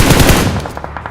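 Rapid automatic gunfire in a battle royale video game, loud and close, a fast burst of shots that trails off into fainter, spaced shots within about a second.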